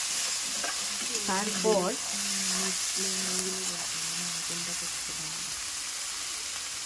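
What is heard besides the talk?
spice masala frying on high flame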